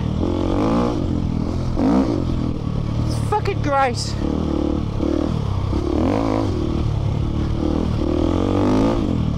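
Dual-sport motorcycles, a KTM 690, a Suzuki DR650 and an SWM Superdual, ride through deep sand, engines droning and revving beneath someone talking loudly over them, with a brief scraping clatter midway.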